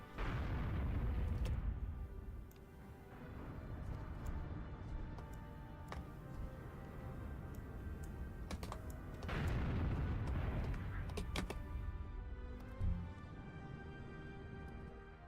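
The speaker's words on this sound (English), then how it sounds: "It's mostly the explosions I've been working on" Deep rumbling explosions in a 3D spaceship game built in Godot, heavy booming bursts that swell and fade in waves over a constant low roar, with no one talking.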